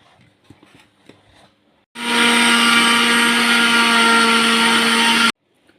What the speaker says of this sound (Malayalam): ഇനി നമുക്ക് മൂടി വെച്ചിട്ട് മിക്സി ഓണാക്കാം.